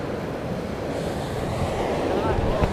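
Ocean waves wash steadily near a shoreline. A continuous broadband surf roar is mixed with wind noise on the microphone and stays fairly loud and constant for the few seconds.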